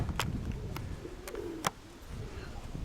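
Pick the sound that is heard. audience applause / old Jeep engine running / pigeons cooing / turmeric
pigeons cooing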